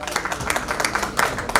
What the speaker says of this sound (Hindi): तालियां कब से आप सबके लिए तालियां बजवा रही है, क्लैप्स फॉर हर